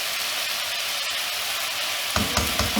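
Chicken frying in hot oil in a pan, a dense steady sizzle that turns suddenly louder and more bubbly near the end as masala is tipped in.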